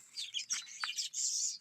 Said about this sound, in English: the birds are chirping not because that they have to, but because they are happy